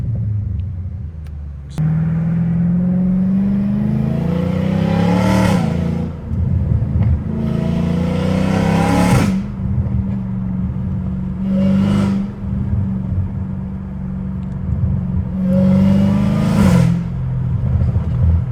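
Straight piped Dodge Hellcat Redeye driving, its engine droning loud and close with four sharp revving surges spaced several seconds apart over a steady rumble.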